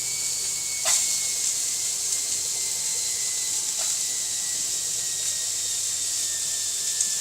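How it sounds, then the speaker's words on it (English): A domestic washing machine runs steadily in a home kitchen, giving a constant hiss and hum with a couple of faint knocks, quite loud and with no talk over it. "excuse my washing machine"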